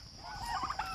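Turkeys gobble during feeding on an organic farm, a quick burst of warbling gobbles heard faintly at moderate distance over low background noise.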